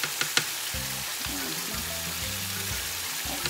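Garlic frying in oil in a pan gives a steady soft sizzle, with a few sharp pops near the start and low tonal hum beneath.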